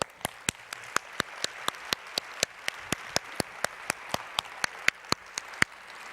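Audience applause welcomes the 2014-2015 Board of Directors at the FNCE 2014 conference, a steady crowd clapping under sharp, regular individual claps that stand out at a fast, even beat, moderately loud and free of speech.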